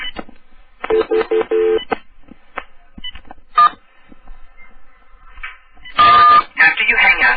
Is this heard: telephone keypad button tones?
yes